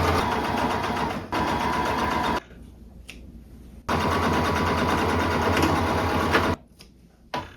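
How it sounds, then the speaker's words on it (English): A sewing machine runs in steady bursts of rapid mechanical stitching, pausing twice briefly between runs, close and fairly loud. "I'm going to try to do all of my regular sewing machine stitching first"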